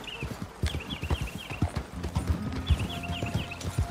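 Loose horses walk with a steady clip-clop of hooves in Red Dead Redemption 2, the hoofbeats close and rhythmic, with a faint whinny and soft game ambience beneath.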